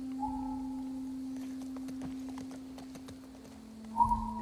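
Horse hooves clip-clopping at a steady walking pace in The Last of Us Part II, moderately loud against a constant low game hum, with brief musical tones and a firmer step near the end.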